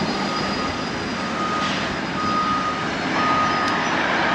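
A lorry sounds faint, repeating reversing beeps at a construction site where a huge hole is being dug at the derelict Son Dureta hospital in Mallorca. The beeps sit under a steady roar of wind and distant site noise.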